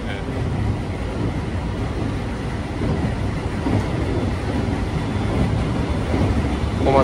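A local train on the Sanyo Main Line rolls toward Kyoto, heard from inside with a steady loud rumble and faint rail clatter, continuous with no speech.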